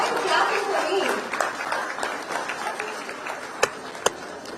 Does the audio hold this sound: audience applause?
yes